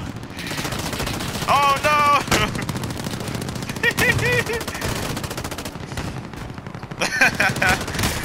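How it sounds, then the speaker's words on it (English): Rapid automatic gunfire from Call of Duty Warzone battle royale gameplay rattles in dense bursts throughout, with brief harmonic effect sounds in between, and a player's voice briefly speaks over the shooting. "Oh, they're shooting."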